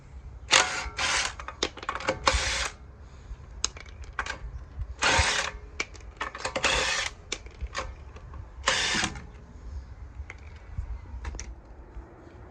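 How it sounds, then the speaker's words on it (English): Cordless drill spinning lug nuts off the front wheel of a 2017 Honda during a brake pad change, several sharp whirring bursts of varying length separated by short pauses, loud and close. "I'm just gonna use a drill to remove them out the rest of the way."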